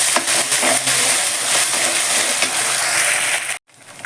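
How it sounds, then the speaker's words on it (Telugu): Ginger garlic paste frying in a pan while making a beans fry, a steady close sizzle with stirring scrapes running throughout and then cutting off abruptly near the end. "రెండు స్పూన్ల అల్లం వెల్లుల్లి పేస్ట్ వేసి కలుపుకోవాలి"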